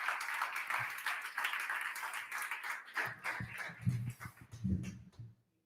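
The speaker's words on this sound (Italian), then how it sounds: "Facciamo un applauso a Lucrezia." An audience at a staged talk event applauds with a dense burst of clapping that holds steady for a few seconds, then thins into scattered claps before stopping.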